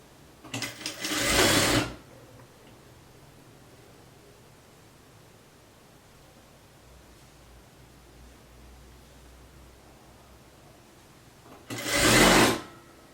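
A sewing machine stitches a blouse seam in two loud, steady bursts, one near the start and one near the end, with faint room noise in the quiet stretch between.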